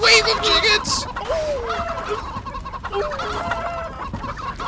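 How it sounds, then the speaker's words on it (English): Chickens in a video game cluck and squawk over a steady background bed, with several short rising and falling calls in quick succession. "A wave of chickens!"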